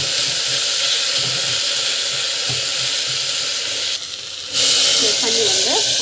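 Potatoes and potato leaf stems sautéing in a pan, a loud steady sizzling hiss with a brief dip before resuming, close by.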